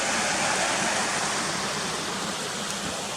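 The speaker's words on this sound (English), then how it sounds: "there you can see the waterfall coming into view now better" Ashgill waterfall pours in a steady, dense rush of falling water, continuous and fairly loud throughout.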